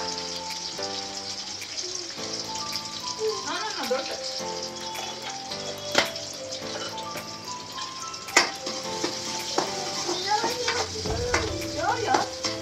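Onions fry in hot oil with cumin and mustard seeds in a curry pan, a steady close sizzle with a few sharp clatters and scraping stirs, and a voice briefly audible over it.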